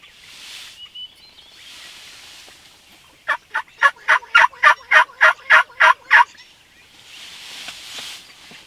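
A wild turkey gobbles in a rapid run of about ten sharp pulses at moderate distance during a Nebraska turkey hunt, between stretches of soft breezy outdoor noise.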